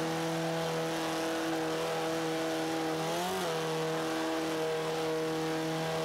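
KTM X-Bow race car in Forza 5, its turbocharged engine holding a steady high drone, then a quick shift dip and recovery midway before pulling on strongly, loud and close with no talk.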